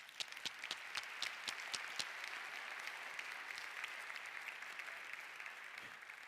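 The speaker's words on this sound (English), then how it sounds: "I have to give her another round of applause." Audience applause at a TEDx talk, a dense sustained wash of clapping from a sizeable crowd, with a few sharper individual claps standing out near the start and the whole ovation holding steady for several seconds.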